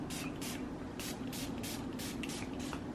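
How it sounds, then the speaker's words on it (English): Lavender sleep spray misted onto bed pillows in quick bursts, about eight short hissing sprays in a steady rhythm, close and fairly clear over a low steady room hum. "Spraying my pillows with this lavender sleep spray."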